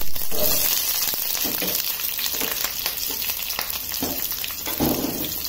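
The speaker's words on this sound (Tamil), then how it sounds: "இப்போ பச்சை மிளகாய் எண்ணெய் காஞ்சிட்டு பச்சை மிளகாய் இதில் போட்டுடுறேன்" Green chilies drop into hot oil for a chow chow chutney and fry with a loud, close crackling sizzle, with bursts of popping spattering over a constant hiss.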